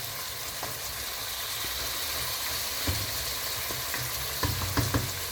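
Pork frying in its own rendered fat in a pan, a steady close sizzle and crackle with occasional sharper pops and a few stirring knocks, no voices.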